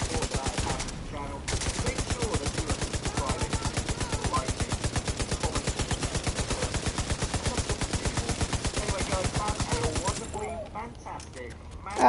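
A machine gun in The Division 2 fires a long, rapid, unbroken burst of loud, even shots. The burst stops near the end and leaves quieter game sounds.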